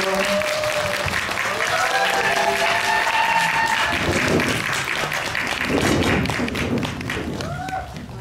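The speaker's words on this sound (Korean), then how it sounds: "큰 박수로 맞이해 주세요." A cinema audience applauds steadily as a film's director and lead actors enter for a talk, with dense sustained clapping and a few shouts, while an amplified voice talks over it.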